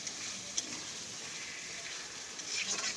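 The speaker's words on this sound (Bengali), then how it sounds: "মাংসটা ভালো করে 5 মিনিট ধরে কষে নেব, তেল ছাড়া পর্যন্ত" Meat being fried and stirred in oil for kosha, a soft continuous sizzle with faint scraping, low in level and steady, no talking.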